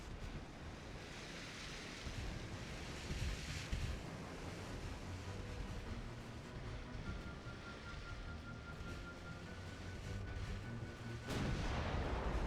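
Distant battleship gunfire in the Ultimate Admiral: Dreadnoughts naval game, heard as low booms under a constant wash of wind and ocean surf, with a louder burst near the end.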